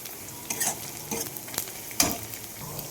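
Onion frying in oil in a pan makes a close crackling sizzle, punctuated by several sharp scraping stirs of a spatula against the pan.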